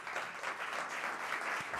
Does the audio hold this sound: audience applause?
yes